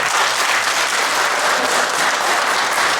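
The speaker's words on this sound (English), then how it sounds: "Please hold your applause and cheering until the end." An audience applauds at a Tea Party–hosted Issue 2 debate in Liberty Township, with dense, steady clapping that fills the room continuously without pause.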